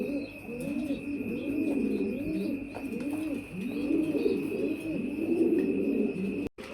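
Several pigeons at a pigeon farm coo in overlapping, rhythmic rounds, close and continuous, over a faint steady high-pitched hum.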